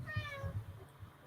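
One cat meow with clear tonal harmonics fading out, over a low steady hum; no talking.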